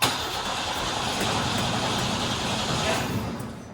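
A 1955 Ford F100 engine cranks steadily and tries to fire without catching, a continuous, loud, close mechanical churn lasting several seconds with no speech.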